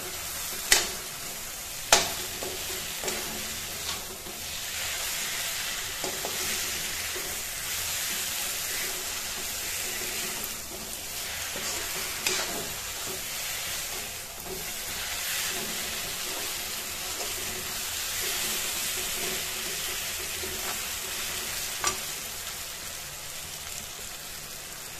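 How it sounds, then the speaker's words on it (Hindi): Potatoes frying with spices in a pan: a steady, dense sizzle runs throughout, broken by occasional sharp clinks and scrapes of stirring, close and moderately loud with no talk. "हम इसको 2 मिनट तक लगभग 1 से 2 मिनट तक आलू के साथ भुनेंगे।"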